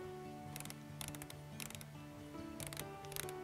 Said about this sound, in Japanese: このラチェットのこのカリカリを何回回せばいいのか